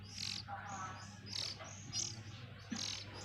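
Several oriental magpie-robin (kacer) chicks chirp in short repeated bursts, close by and fairly loud, over a steady low hum.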